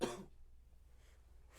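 A single short cough or throat clearing, close and brief at the very start, followed by near silence.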